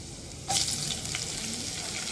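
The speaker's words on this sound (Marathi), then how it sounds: "मिरच्याही तेलात व्यवस्थित परतून द्यायचं" Chopped green chillies sautéing in oil with cumin, crushed garlic and asafoetida for an okra stir-fry, a quiet hiss that jumps into a louder, steady sizzle partway through, no talking.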